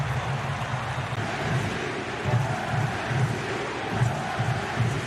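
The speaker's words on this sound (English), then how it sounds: "Crowd serenades Acosta as he swings in the corner." A stadium crowd at a US Open Cup soccer match between Inter Miami and Cincinnati sings to player Acosta, a dense, steady roar of many voices with a rhythmic chanting pulse throughout.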